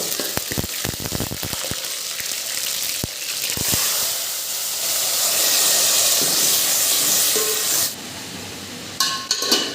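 Green chili paste hits hot oil with sizzling garlic, curry leaves, mustard seeds and cumin, raising a loud steady hiss and spatter with a few sharp crackles at the start and a brief lull near the end.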